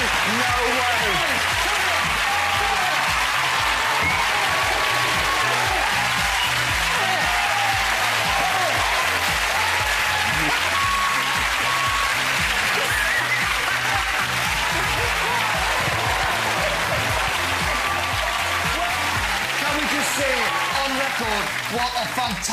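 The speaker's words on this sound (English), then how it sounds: "Give him a round of applause." A TV studio audience on a Saturday night entertainment show keeps up loud, continuous applause and crowd noise, with faint voices blending into the clapping.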